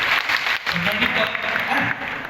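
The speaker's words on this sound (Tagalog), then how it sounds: "Medyo mahina ang palakpak." Thin, scattered applause from a workshop audience at Tarlac National School, steady for about two seconds with a short dip, with voices and chatter mixed in.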